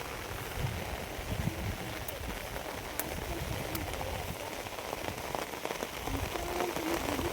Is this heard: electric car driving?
no